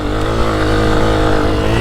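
A 2024 Honda CRF250F trail bike ridden on a motocross track, its engine a loud, close, steady droning rasp for a short stretch.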